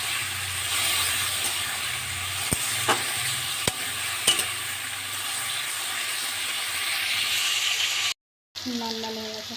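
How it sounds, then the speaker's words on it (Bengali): Chopped pointed gourd fries in hot oil, a steady close sizzle and hiss with a few sharp stirring clicks, cut by a brief silence near the end before the frying resumes. "তেলটা গরম হচ্ছে, তেলের মধ্যে পটলটা লাল হয়ে যাবে"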